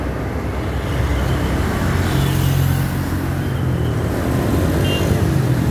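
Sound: congested road traffic at Ajibarang during the holiday return flow

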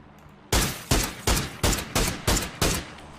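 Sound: gunfire in PUBG video game

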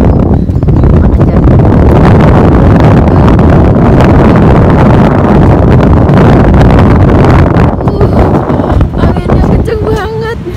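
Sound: strong cold wind blowing at a balcony

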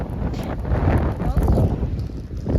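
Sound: wind

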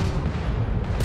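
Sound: gunfire from enemies in the video game Starfield

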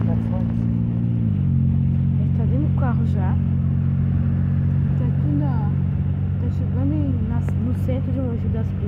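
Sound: inside a moving car

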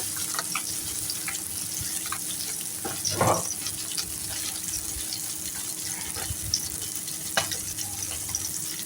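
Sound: chopped onions frying in oil in a pot

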